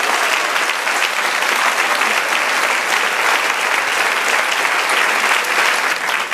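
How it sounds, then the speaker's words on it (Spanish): A church congregation breaks into steady, dense applause during a worship service, a continuous full-room clapping roar that holds at an even level throughout. "Dale un aplauso al Señor."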